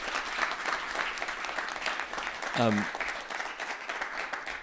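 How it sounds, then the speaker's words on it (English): Conference audience applauding a speaker named Maxine at a talk on decentralized AI, with steady clapping throughout under a brief spoken hesitation, and a short tonal burst partway through. "Can we get a round of applause for Maxine?"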